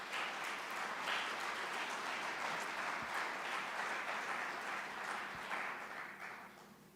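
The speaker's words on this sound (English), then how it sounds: "Please give them a round of applause before we even begin." A town hall audience at a gun safety forum applauds in a steady, dense wash of clapping that holds for several seconds and then gradually fades toward the end.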